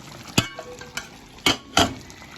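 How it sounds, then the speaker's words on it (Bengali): Meat cooking in a pan in a home kitchen, a low sizzle broken by several sharp scraping or stirring knocks of utensil against the pan, with no talking. "এই যে মাংস নিয়ে এসে এখন রান্না করতেছি মাংস"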